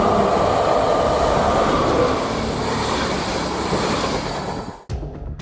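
A moving train rushes past at close range, a loud, continuous roar of wheels and carriages that fades and cuts off abruptly near the end.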